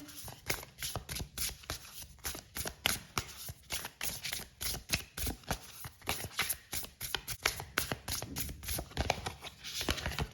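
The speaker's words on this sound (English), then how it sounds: "Let me just pull some more cards for you." Oracle cards are shuffled and pulled from the deck, giving a quiet, close, rapid patter of papery riffles and flicks in a steady rhythm, with no talking.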